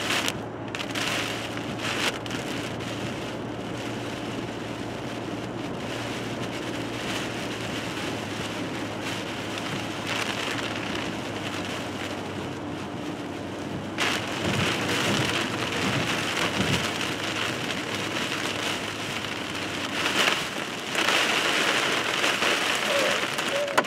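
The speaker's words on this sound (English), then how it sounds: "Big hail." Heavy rain mixed with hail pounds steadily during a March thunderstorm in Madisonville, Kentucky, a dense continuous roar with harder bursts of impacts later on and a few faint distant voices.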